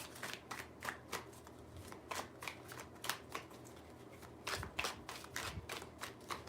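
Close-up riffling and flapping of tarot cards being shuffled, in repeated quick bursts with short pauses between them.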